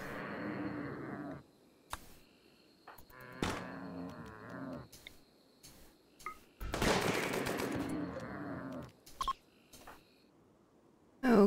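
Gunfire in the Rimworld video game comes as several loud, sharp bursts with short gaps between them, one longer volley near the middle, mixed with other game effects.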